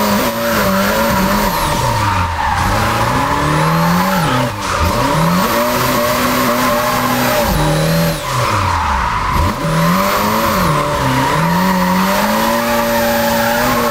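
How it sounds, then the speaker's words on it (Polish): A car drifts in the video game Japanese Drift Master, its engine bouncing off the rev limiter in second gear with repeated rising and falling revs and tire squeal, loud and continuous without talk. "Teraz jest chyba lepiej, już tak niechętnie na dwójce podchodzi pod ten rev limiter"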